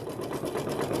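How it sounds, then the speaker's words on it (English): A home embroidery sewing machine stitching steadily, giving an even, continuous mechanical whir with a fast needle rhythm and no pauses, close and alone. "We're just going to be stitching."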